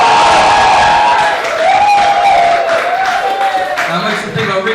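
An audience bursts into loud cheering, whooping and clapping, a dense crowd roar with excited shouts that stays strong before easing slightly at the end.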